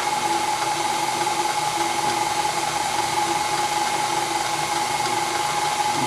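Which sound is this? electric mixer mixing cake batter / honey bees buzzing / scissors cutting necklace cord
electric mixer mixing cake batter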